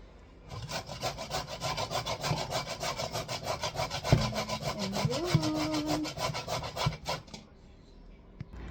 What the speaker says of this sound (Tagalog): natanggal ko na yung kanyang balat at ngayon kakayurin ko na